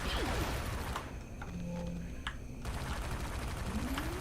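Enemy turrets fire in City of Heroes, a dense, continuous rattle of rapid shots close by, with a brief thinner stretch in the middle before the barrage resumes at full strength.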